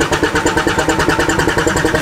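A 450 excavator's diesel engine cranks on a cold morning, loud and close, with a fast rhythmic chugging of the starter turning it over.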